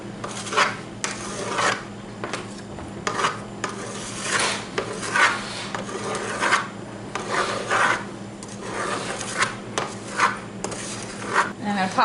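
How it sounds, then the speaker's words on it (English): A tall bench scraper smoothing and scraping frosting around a giant sushi bobblehead cake, giving repeated rasping strokes at close range, with no talking. "You can just scrape off, add back on any empty spaces."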